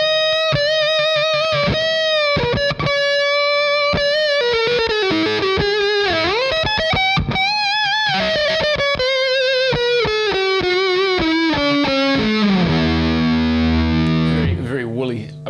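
An electric guitar runs through a Red Witch Seraphina fuzz pedal set to full fuzz with the tone rolled back, giving a thick, woolly distorted sound. It plays loud single-note runs and bends, then ends on a held note.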